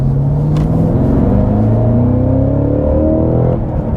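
A Cadillac CT5-V Blackwing accelerates hard on the road, its engine note climbing steadily through the revs in a loud, continuous rising roar with layered harmonics, then easing off briefly near the end.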